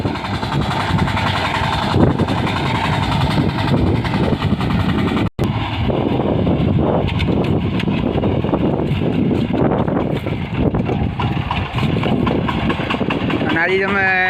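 Tractor engine running steadily while driving through a wind-flattened cotton field, a loud continuous rumble with wind buffeting, and someone talking over it.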